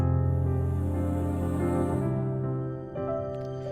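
Sustained string chord with a wavering tremolo texture that swells and shifts near the end, steady and fairly full, with no voices.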